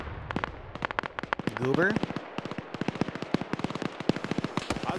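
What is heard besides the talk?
gunfire from soldiers' guns in a military video game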